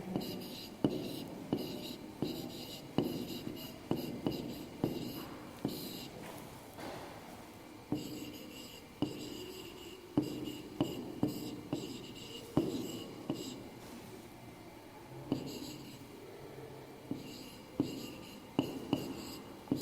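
Chalk writing on a classroom board, with rhythmic tapping and scraping strokes repeating steadily up close while a soft voice talks faintly underneath.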